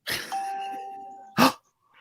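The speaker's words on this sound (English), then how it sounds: "Someone's ringing the doorbell." A doorbell rings with one long sustained chime, cut off by a short, sharp noise near the end, loud and close with no talking.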